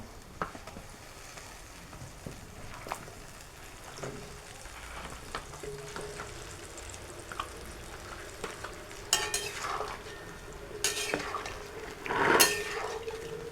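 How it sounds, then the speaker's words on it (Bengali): Olives for a sweet pickle go into melted sugar in a pan, bringing scattered clinks of a utensil against the pan and stirring, then louder sizzling bursts toward the end. No one speaks. "এখন এখানে আমি জলপাইগুলো দিয়ে দিব।"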